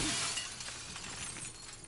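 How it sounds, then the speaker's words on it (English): Window glass shatters in The Last of Us Part 2, a close, bright crash with scattering shards that trails off over a couple of seconds. "with the point on it, it actually smashes the window a lot better"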